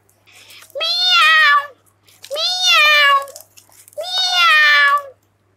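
A cat meows three times in drawn-out, rising-and-falling cries, loud and close, with short pauses between them.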